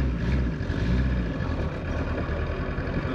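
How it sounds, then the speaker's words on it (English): Toyota MR2 with a turbocharged K24 engine and a Quaife sequential gearbox, driving: a loud, steady low engine drone with gear whine layered above, continuous and close for the whole stretch. "Just the gearbox noise itself."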